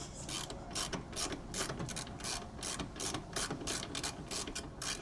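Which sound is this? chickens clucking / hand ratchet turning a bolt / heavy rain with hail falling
hand ratchet turning a bolt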